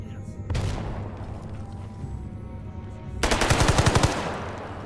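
Gunfire in the video game S.T.A.L.K.E.R. GAMMA, where a sniper rifle is used against a military base: a sharp shot rings out early, then a loud, rapid burst of automatic fire follows near the end over a steady game background.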